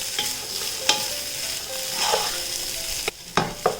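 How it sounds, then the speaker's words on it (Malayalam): Drained green gram is stirred into a frying pan mixture for a Kerala sukhiyan snack, giving soft scraping stirs and occasional spoon knocks over a light sizzle, with no talking. "ഈ സമയം നമ്മൾ ഈ ഡ്രെയിൻ ചെയ്ത് വെച്ചിരിക്കുന്ന ചെറുപയറുണ്ടല്ലോ അത് ഇതിലേക്ക് ഇട്ട് കൊടുക്കാം. എല്ലാം കൂട്ടിയിട്ട് നന്നായിട്ടൊന്ന് യോജിപ്പിക്കണം."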